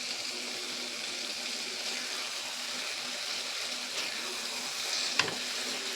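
Mushrooms fry and get stirred with salt in a pan, producing a steady, close sizzle with a single brief scrape of the spatula near the end.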